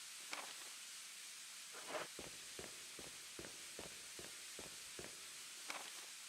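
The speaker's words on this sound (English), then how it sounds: "Oh wait, I can see how this would be loud because there's a room full of steam in it." Steam in a Resident Evil room hisses as a steady, even wash of noise, with footsteps tapping in a regular rhythm on top of it.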